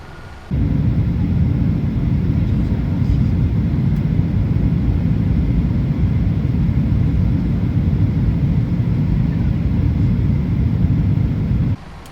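A Boeing 737-800 airliner in the Prepar3D flight simulator, cruising through cloudy skies near Houston on approach, with a loud, steady low rumbling drone that runs unbroken and then cuts off abruptly.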